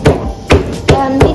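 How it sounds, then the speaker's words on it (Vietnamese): A knife chops peeled shrimp on a board, four loud, crisp strokes spaced about half a second apart, close up and alone. "lột con xong thì bay phải băm"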